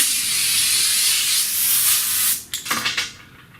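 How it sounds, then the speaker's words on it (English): An air compressor-powered modified sprayer, set to about 40 psi, hisses steadily while filling transmission fluid, then cuts off into a few short sputtering bursts near the end. "I got the pressure turned down on the air compressor. Got it turned down to like 40 psi right now."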